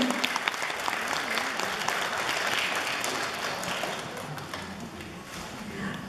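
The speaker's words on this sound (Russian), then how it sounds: "Ваши аплодисменты" A concert audience applauds a Tatar ensemble's performance, a steady dense wash of many hands clapping that fades slightly toward the end, with faint voices underneath.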